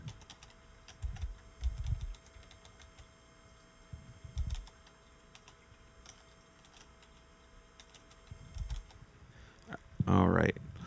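Slow, uneven clusters of computer keyboard keystrokes tapped out one finger at a time while editing thumbnails in Affinity Photo, with pauses between bursts and low background hum.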